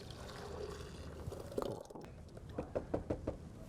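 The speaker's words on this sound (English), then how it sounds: "we're going to pour that back into the blender" Melted mint chocolate mixture poured back into a blender jar, a soft liquid pour followed by several light knocks and taps of the container, quiet and close.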